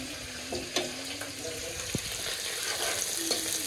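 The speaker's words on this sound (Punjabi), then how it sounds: "ਪਿਆਜ਼ ਨੂੰ ਚੰਗੀ ਤਰ੍ਹਾਂ ਭੁੰਨ ਲਾਂਗੇ ਜੀ" Chopped onion frying in a pan for aloo methi sabzi, a soft steady sizzle with a few brief stirring scrapes and clinks, fairly quiet and close, with no talking.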